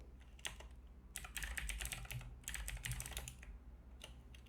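Keyboard typing of JavaScript code on a computer keyboard, rapid bursts of clacking keystrokes in uneven clusters with short pauses, close and clear over a low hum, no talking.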